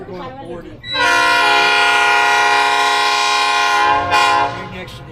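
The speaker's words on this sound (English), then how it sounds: "They're going to run the engine around to the other end of the train" A heritage diesel locomotive on the Black River & Western Railroad at Ringoes Station sounds a long, loud, steady horn blast after low rumbling, with a brief second toot near the end.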